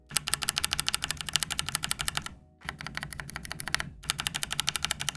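Typing on a mechanical keyboard fitted with linear Cream switches: dense, steady clacking in quick runs, close and crisp, with two brief pauses between bursts.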